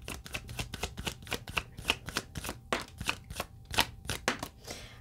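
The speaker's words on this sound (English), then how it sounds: "this was my final shuffle" Tarot cards being shuffled by hand, a quick run of crisp riffling bursts and soft slaps close by, repeating irregularly over several seconds with no talk.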